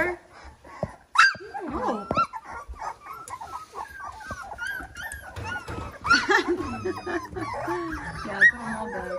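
Young puppies at playtime in the third week of life yip, bark and whimper in a busy overlapping jumble, close by and fairly loud, with a person briefly speaking among them.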